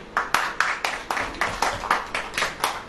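Clapping from a small audience at a church gathering, a steady, evenly paced rhythm of sharp claps in unison, moderately loud and near, with no talking over it.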